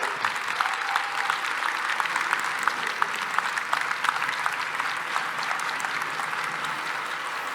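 A hall audience at a meeting of KVN comedy teams in Ufa applauds steadily and loudly, the dense clapping holding an even level throughout without talk.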